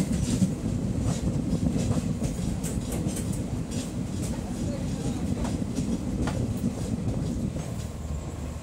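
The Garib Rath Express passenger train from Shalimar to Puri runs on rails near Kharagpur, with a steady close rumble and clickety-clack of wheels, heard from inside the moving train.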